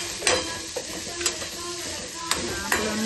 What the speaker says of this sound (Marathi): आता याला पूर्ण फ्राय करून घेऊ. तर तुम्ही बघू शकता आपण हे नीट मिक्स करतोय.